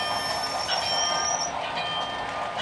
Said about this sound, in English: See the choo-choo? That's a Halloween choo-choo train.